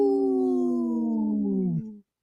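A single long wolf howl, clear and loud, holds a steady pitch that slowly sinks before cutting off abruptly, alone with no talk.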